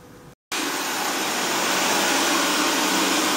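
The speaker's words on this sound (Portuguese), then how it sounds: "O aspirador já começou aqui a aspirar a cozinha." A Xiaomi Mi Robot Vacuum Mop 2S cleaning a kitchen floor runs with a steady, loud whirring suction drone that starts after a brief silence and continues unbroken.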